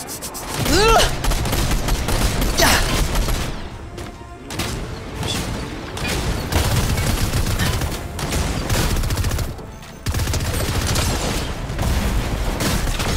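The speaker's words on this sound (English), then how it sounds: "I keep shooting him by accident" Rapid gunfire from a shotgun and other weapons in Fortnite, loud and dense with overlapping blasts and crashes across the whole stretch, a brief lull near the middle and a sharp cutoff toward the end.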